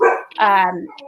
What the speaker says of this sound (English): Okay, well, excuse my dogs.